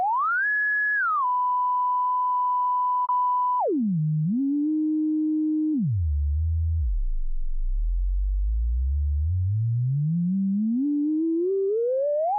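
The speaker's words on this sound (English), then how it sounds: "So that's an example of self-oscillation there" Pure self-oscillating filter tone from the Zebra2 soft synth, a steady whistle stepping down in pitch to a low rumble, then gliding smoothly back upward, loud and alone.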